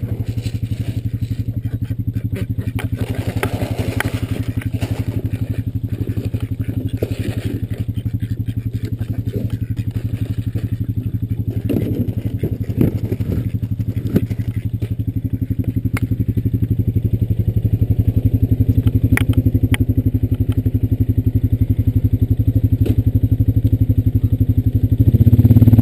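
A Honda Rancher 420 ATV engine drones steadily while riding, a low continuous hum that grows slightly louder and rougher toward the end, with scattered clatter and no talk.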